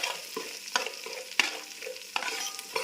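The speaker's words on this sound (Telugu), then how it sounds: "ఇది బాగా పచ్చి వాసన పోయేదాకా వేయించుకోవాలండి, లేకపోతే పచ్చి వాసన వస్తుంది." Onion, tomato and green chili frying in a pan for paneer pulao, a steady close sizzle broken by several sharp scraping stirs of a spoon, with no voices.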